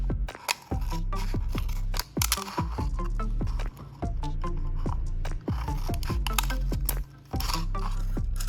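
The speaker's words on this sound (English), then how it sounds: "I'll use scissors to cut lengthwise along the upper part of the plastic bottle, creating thin fringe-like strips." Scissors snip repeatedly into a plastic bottle, cutting it into thin fringe-like strips; sharp, close crisp cuts come in quick bursts with short pauses between them.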